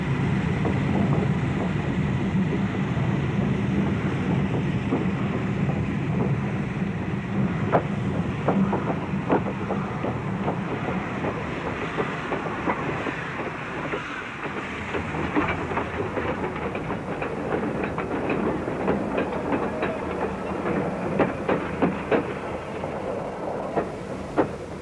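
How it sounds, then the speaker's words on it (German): A steam train in poor condition pulls a light load out of a station in Indonesia, its rolling wheels and clickety-clack of rail joints steady and moderately loud, with wind noise over the microphone. "als der Zug aus dem Bahnhof fuhr"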